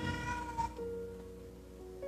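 A cat gives a single short, faint meow, drawn out briefly and heard alone in a quiet room.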